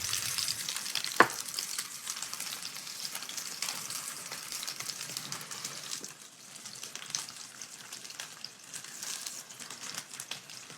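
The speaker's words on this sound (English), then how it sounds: "Mixing our compound butter with our lemon juice now." Compound butter of sweet butter seasoned with salt is mixed with lemon juice in a bowl, giving a soft, steady wet stirring and crackling texture with a sharp tap near the start.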